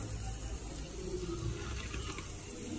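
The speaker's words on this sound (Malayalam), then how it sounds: "അപ്പൊ നമുക്ക് നമ്മുടെ തിളച്ച വെള്ളം ഇനി ഇതിനകത്തേക്ക് ഒഴിച്ചു കൊടുക്കണം" Boiling water poured into a pan of tomato masala for a fish head curry, a steady rushing, splashing flow that runs unbroken and fairly close, with no talking.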